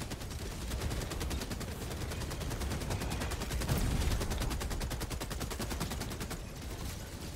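Rapid automatic gunfire in Helldivers 2 against a Factory Strider: a long unbroken stream of fast, evenly spaced shots, loud and sustained over a rumbling battle background.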